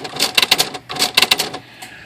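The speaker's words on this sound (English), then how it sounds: "I'm going to erase it now" A Smith Corona H Series electronic typewriter lifts off a typed word with its correction ribbon, giving two loud, rapid bursts of mechanical clacking with a short pause between them, close up and with no talking.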